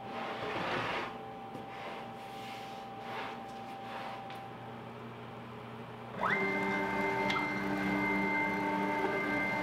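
CNC router table running a fine-pointed V-bit over ash, a quiet motor hum with faint taps, then the spindle spinning up into a louder steady high whine.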